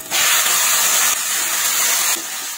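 Chicken sautés in a pot over garlic, onion and ginger, giving a loud, close, steady hissing sizzle that drops slightly partway through, with no voices.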